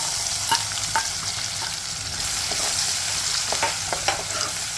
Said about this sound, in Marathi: त्यामध्ये मी कांदा टाकते आहे